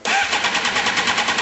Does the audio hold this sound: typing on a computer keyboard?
no